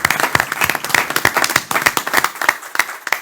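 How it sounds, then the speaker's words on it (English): Small audience at a city commission meeting in Clewiston, Florida, applauding with sparse, distinct claps in an irregular rhythm, close and fairly loud. "If we could give them a round of applause, I think that'd be perfect"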